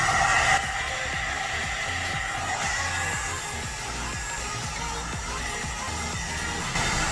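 A 2-in-1 step hair dryer and styler with volumizer blows steadily at close range, a continuous loud whir with a slight rise at the start and end, no speech over it.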